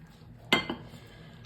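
Metal lid set onto a cooking pot, one sharp clank followed by a softer rattle, then another bright clink a moment later, close and clear in a quiet kitchen.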